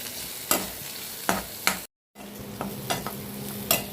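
Chopped carrots sautéing in oil for a carrot chutney, a steady close sizzle punctuated by sharp spatula scrapes every second or so, with a brief silent break midway.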